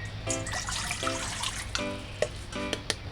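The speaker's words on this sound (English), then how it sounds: "Before you use the herb, wash it properly in" Herb root, such as chainey root, being rinsed in a bowl of water, with a few soft splashes, sloshes and light drips close by, no talking.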